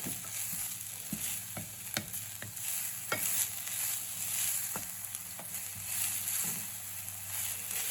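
Eel pout stir-frying in a hot wok with chilies and bean sprouts gives a steady, close sizzle. Sharp scraping clicks from the spatula or tossing come at irregular intervals throughout.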